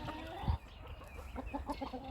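A Marans hen clucks in a backyard flock, with a few soft, close clucks in a short rhythmic run and a low thump near the start.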